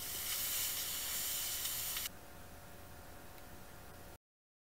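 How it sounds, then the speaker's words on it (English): Compressed air blows onto an Epson WorkForce WF-3640 printhead with a faint steady hiss that drops in strength partway through before cutting off. "We blow dry with compressed air."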